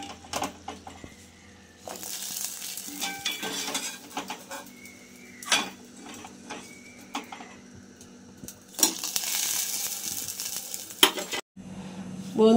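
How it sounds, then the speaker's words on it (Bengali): Batter dumplings for ros bora fry in oil, giving a soft continuous sizzle broken by spoon stirs and clinks against the pan, close and moderate in volume, with no voices. "সবগুলো ভেজে নেব"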